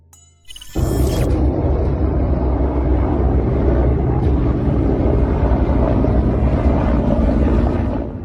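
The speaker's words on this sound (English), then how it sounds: "when you see a fleet of helicopters gracefully cruising through the air" A fleet of helicopters passes overhead, caught by a trail camera as a loud, continuous, rumbling drone with wind buffeting the microphone.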